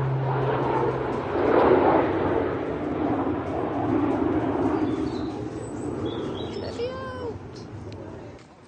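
An aeroplane flies overhead as a steady, broad rumble that swells and slowly fades outdoors. High puppy whines and squeals rise over it near the end.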